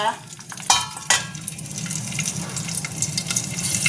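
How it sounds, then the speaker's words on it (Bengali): Nigella seeds and green chilies crackle and sizzle in hot oil in a wok during tempering, with a steady frying hiss and a couple of sharp pops, fairly close and without talk. "কালি জিরে ফোড়ন দিলাম আর লঙ্কাগুলো এবার ফাটবে"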